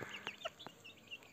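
Hens clucking close by in short, irregular bursts, with a few sharper higher calls mixed in over a quiet farmyard background, an Aseel rooster and growing chicks in the coop.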